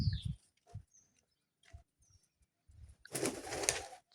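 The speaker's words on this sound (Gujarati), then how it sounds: "કબૂતર ઉડી જશે કે રીશે" A pigeon that appears ill flaps its wings in a sudden noisy flurry as it takes off near a village dam, following a few soft scattered sounds and brief cooing.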